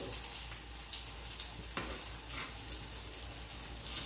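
Mango jamuns frying in ghee give a steady, soft, close sizzle with fine crackling bubbles throughout, alone without talk.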